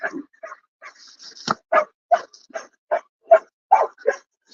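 A pack of free-roaming reservation dogs barks in a series of about ten sharp, separate barks and yips, fairly close and clear against a quiet background.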